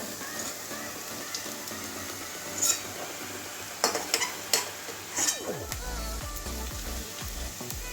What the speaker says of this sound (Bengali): গাজর আলু আমার ভাজা হয়ে গেছে এবারে তুলে নেব